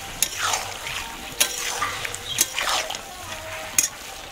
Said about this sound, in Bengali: দিয়ে দেবো স্বাদের জন্য কিছুটা পরিমাণ মতো চিনি, দিয়ে এটা ভালোভাবে একটু মিশিয়ে দেবো